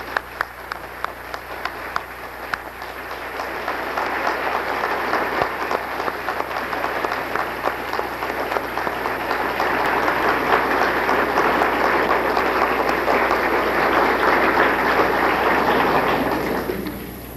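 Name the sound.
audience applause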